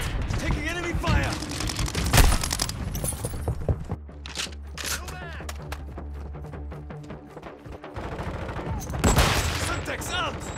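Rapid automatic gunfire and bursts of shots in a Call of Duty multiplayer match, loud and close, with scattered impacts and game voice callouts mixed in.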